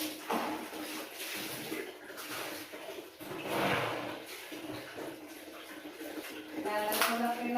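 Water runs into a bathtub in a home bathroom, a steady rushing stream that rises and falls in surges, with clinks and handling noises around it.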